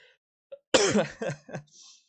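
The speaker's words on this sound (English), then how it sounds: "jeez, the cough, guys" A streamer live-reacting to a Genshin Impact teaser gives a close, sharp cough that breaks into a few rapid spasms, each following quickly on the last, with no speech over it.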